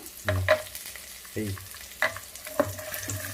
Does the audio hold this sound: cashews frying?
yes